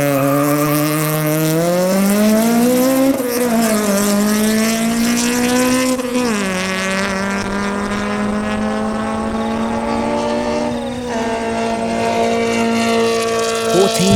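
A race car with a modified 2-litre engine accelerating hard on a timed quarter-mile run, its loud engine note climbing steadily through several gear changes and holding near and continuous throughout.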